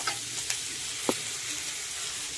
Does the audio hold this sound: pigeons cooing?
no